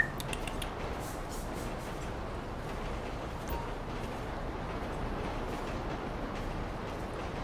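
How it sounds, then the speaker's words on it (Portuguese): A train passes in the GTA 5 video game, giving a faint, steady rolling rumble with light clattering throughout, heard alone with no talk. "Aproveitar que o trem tá passando, tem bastante barulho."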